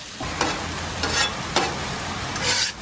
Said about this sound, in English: We'll smash them hamburgers down.